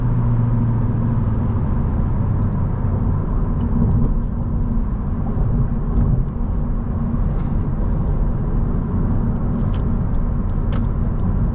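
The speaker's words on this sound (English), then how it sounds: "effortless acceleration from this powertrain" A 2019 Honda Civic Sport with a 1.5-liter turbo engine and six-speed manual gearbox accelerating, a steady loud cabin drone of engine and road noise with no talking.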